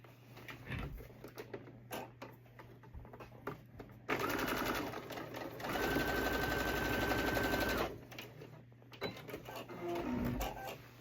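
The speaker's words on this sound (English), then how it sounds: "I'm going to line up these edges and sew it back with the new length." Sewing machine stitching the shortened sleeve of a sport coat, seams lined up at a new length; a steady motor whir with short bursts at first, then two longer sustained runs in the middle, close and fairly quiet, with no talking.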